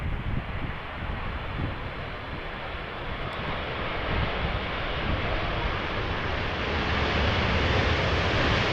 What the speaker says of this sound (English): Right, Dreamliner arriving from Las Vegas, KLM flight